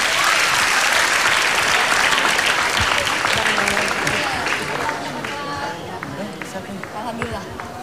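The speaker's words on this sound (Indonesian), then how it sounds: "Tepuk tangan dulu dong untuk Cut Meme dan Chan Kelvin" A studio audience at a televised singing-contest selection concert claps loudly and continuously, then thins slightly toward the end as voices and crowd chatter come through.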